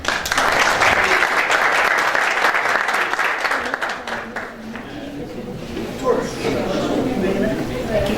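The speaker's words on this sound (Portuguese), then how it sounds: "Palmas." An audience applauds at the close of a seminar presentation, dense steady clapping that stays loud and fills the whole stretch, easing slightly toward the end with a few voices mixed in.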